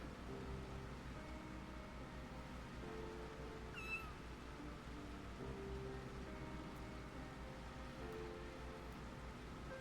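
A cat in the game FFXIV Dawntrail meows faintly once, briefly rising above a steady bed of layered music and soft rain-like ambience.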